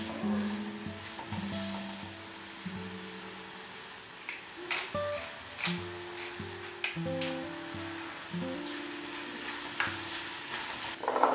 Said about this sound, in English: I heated up some olive oil and sauteed onion, carrot, and capsicum for just a few minutes